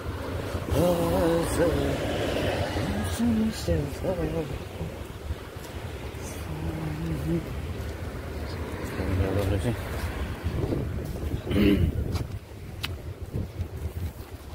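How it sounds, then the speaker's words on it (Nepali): Wind blows outdoors on a clear day after rain, a steady buffeting rush across the microphone, while a person talks over it throughout. "हावा चलिरहेको छ"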